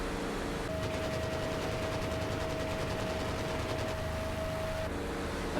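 Machine guns on a Corsair aircraft in Microsoft Flight Simulator fire as a rapid, even rattle for about four seconds over a constant roaring engine drone and a steady whine, with no voices.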